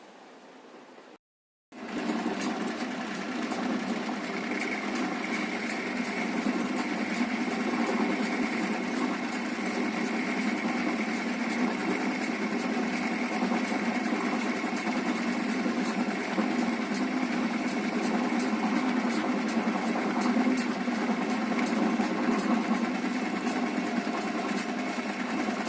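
A workshop lathe turns a piece of nylon, its motor starting after a brief lull and then running as a steady, even drone that fills the rest of the clip.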